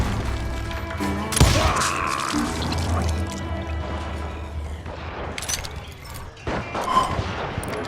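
Gunfire in the Western video game Call of Juarez Gunslinger, with several loud, sharp shots and crashes among a dense, busy game soundscape.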